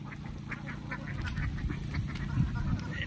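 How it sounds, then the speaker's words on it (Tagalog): A flock of domestic ducks in a rice paddy quacking in a steady series of short, repeated calls, moderately distant and fairly faint over low outdoor background noise. "Ayun, nakita nyo guys yung mga itik."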